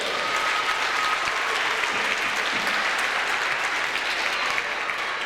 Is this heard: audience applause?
yes